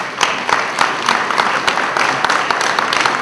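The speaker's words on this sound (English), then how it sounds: "a round of applause, please." Round of applause at a school board of education meeting during teacher of the year awards, many hands clapping steadily with some sharp individual claps standing out, loud and sustained throughout.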